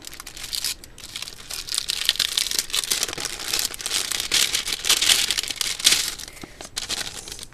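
Plain paper bags with a gold circle pattern being handled, giving steady, close crinkling and rustling with sharp paper crackles throughout, no speech.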